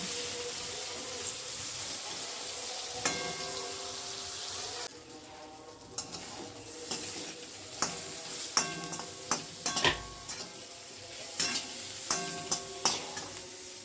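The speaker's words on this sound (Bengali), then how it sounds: "ছোটো ছোটো করে বেগুন কেটে রেখেছিলাম নুন হলুদ মাখিয়ে, সেই বেগুনটা দিয়ে দিলাম তেলের ভিতরে।" Small pieces of salted, turmeric-coated eggplant fry in oil in a kadai, a steady sizzle broken by repeated sharp scrapes and clatters of a spatula stirring, close by.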